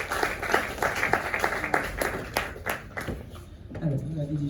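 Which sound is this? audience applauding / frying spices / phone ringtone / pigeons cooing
audience applauding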